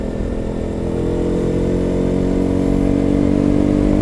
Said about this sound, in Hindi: ये रोड में तो गाइस बाइक चलाने का मजा ही अलग है गाइस।